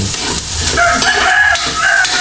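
A native rooster crows loudly and close by, a drawn-out call over a noisy outdoor background.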